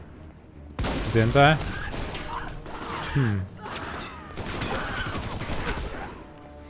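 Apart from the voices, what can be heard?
gunfire in the video game Alpha Protocol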